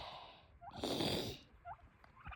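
Turkeys gobble in a bird enclosure: one bright, rattling gobble stands out near the middle, with shorter, fainter calls around it, fairly close, and no talking.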